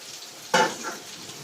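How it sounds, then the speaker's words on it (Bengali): Food fries in a pan for a spicy curry. A sudden loud sizzling burst rises out of quiet kitchen background, then fades into a softer crackle within a second. "এটা এটা ভাজতে থাকুক"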